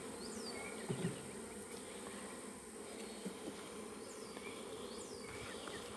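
Steady soft buzzing of many bees around a hive, a constant drone with occasional louder bees passing close by.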